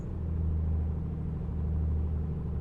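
A light aircraft piston engine holds a run-up at 1500 RPM, a steady, loud, low droning rumble with an even pulsing tone and no voices.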